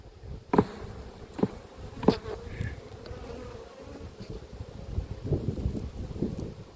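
Honeybees buzz around a hive frame as it is shaken during colony splitting, a soft steady hum with a few sharp thumps and knocks from the frame, no talk.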